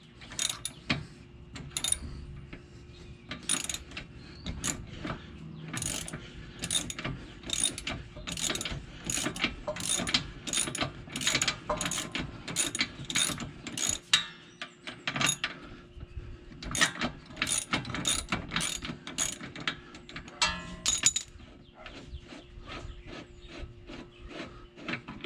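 A ratchet wrench backs a rear shock bolt out of a Ford Freestar or Windstar minivan, rapid clicking bursts repeating in quick strokes with brief pauses, close by over faint garage noise.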